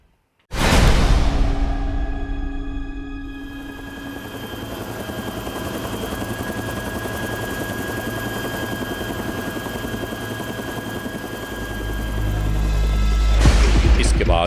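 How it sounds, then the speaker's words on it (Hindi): Helicopter flying close by, with a loud, steady rotor and turbine roar that begins abruptly and holds throughout, swelling louder toward the end. "इसके बाद हेलीकॉप्टर के जरिए ये एहलकार अपनी मंजिल मकसूद की जानिब रवाना हो गए।"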